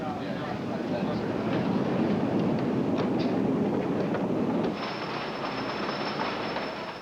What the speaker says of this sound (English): tell me what's happening as the train goes around the track for the first time